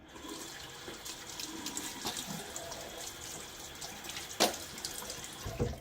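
Cold hard water runs steadily from a bathroom tap while a face is wetted before a wet shave, with soft splashing and a brief louder splash near the end and no talking.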